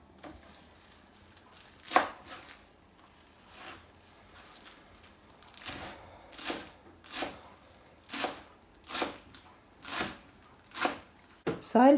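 Fresh green herbs are chopped with a knife on a board in a home kitchen, a series of crisp rhythmic knocks that speed into a steady run, with faint background noise.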